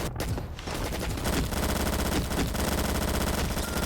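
Rapid automatic gunfire in a shooting video game: loud, dense bursts rattle almost nonstop over a music bed, with no break in the firing.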